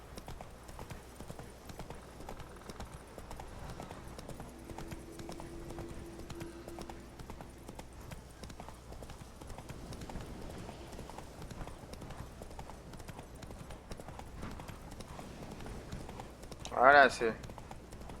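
Hooves of the horse Roach clip-clop in a steady rhythm through a video game scene, fairly faint and continuous, with someone speaking Spanish over it and a brief louder burst near the end.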